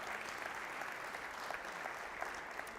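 An audience at a sports and play summit applauding steadily, a dense, even wash of clapping that holds at a fairly constant level throughout.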